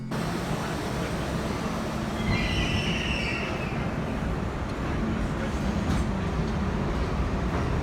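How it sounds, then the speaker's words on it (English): A subway train rumbles steadily along the tracks with a constant low roar, brief high wheel squeals rising partway through, close and enveloping. "we find ourselves on a subway hurtling towards Connecticut"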